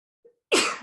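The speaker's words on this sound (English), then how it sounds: "I now again also sneeze at least once per class." A single sharp sneeze from a person, preceded by a brief quiet inhale, then a loud explosive burst that fades quickly.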